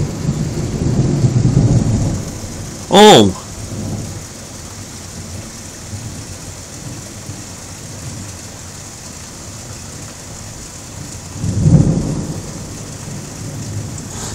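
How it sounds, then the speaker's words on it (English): A thunderstorm with steady rain hissing on surfaces, split by a sharp nearby thunderclap and later a softer rumble; someone briefly exclaims. "thunderstorm."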